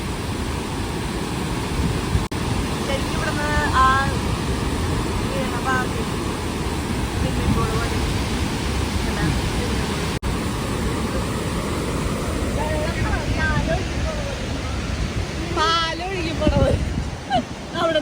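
Water rushes and roars out of Peechi Dam's shutters in Thrissur in a continuous broad wash, loud and steady, while people talk over it.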